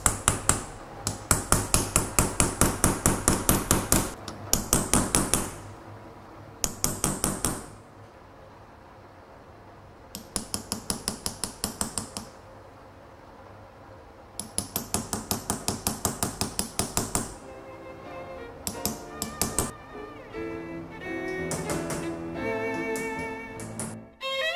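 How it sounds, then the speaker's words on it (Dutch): Rapid, bright metallic tapping comes in repeated bursts separated by short pauses, a goldsmith's chasing hammer striking metal close up while restoring a church reliquary, turning to more ringing strikes near the end. "ciseleren betekent gewoon hameren met de ciseleerhamer, de typische hamer van de goudsmede."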